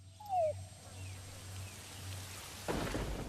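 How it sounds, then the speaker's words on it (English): Jungle rainstorm from the Metal Gear Solid V: The Phantom Pain video game, with a low thunder rumble under a brief high chirp, then a steady hiss of rain that suddenly swells louder near the end. "Weather will change dynamically, and in jungle settings such as this, rainstorms are fairly common."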